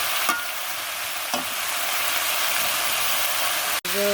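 Green chilies fry in hot oil in a pan with a loud, steady sizzle that continues throughout, broken by a couple of faint clicks and a brief dip near the end.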